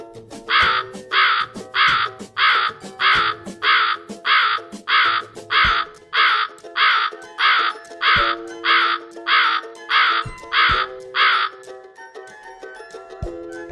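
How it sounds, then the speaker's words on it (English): A crow cawing about eighteen times in a steady, even rhythm of harsh, loud calls, alone over soft background music. "crow माने कौवा."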